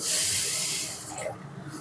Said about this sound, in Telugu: ఒక అరకప్పు వాటర్ వేసుకోవాలి